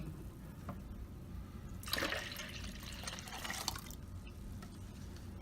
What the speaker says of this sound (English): in our plastic bottle we're going to fill it with the plant nutrients and the water